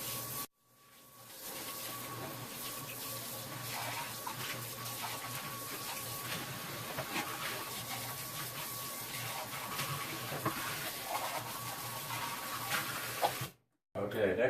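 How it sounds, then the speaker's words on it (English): Cold tap water runs steadily into a kitchen sink as dishes are rinsed, a continuous close splashing hiss lasting most of the time with brief breaks at the start and end. "go rinse those in cold water also"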